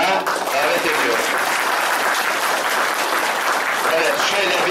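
An audience gives sustained applause at a memorial gathering in İskilip, Turkey, as a guest is welcomed to the microphone; dense, steady clapping fills the whole stretch with some voices mixed in.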